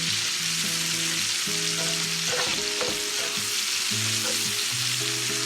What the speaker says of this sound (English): It'll help saute these onions up real good.